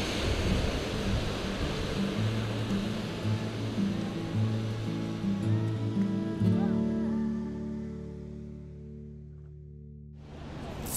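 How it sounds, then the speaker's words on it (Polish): A waterfall in Yellowstone National Park rushes as a steady broadband roar under sustained tonal notes, thinning out and fading before a sharp swell at the very end. "No i tutaj wodospad jeszcze"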